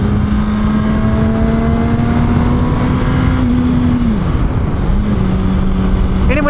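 A motorcycle engine hums steadily at cruising speed, loud and close, with wind noise throughout; the pitch holds, then drops as the rider eases off and settles at a lower, steady drone.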